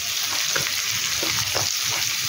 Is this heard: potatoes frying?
yes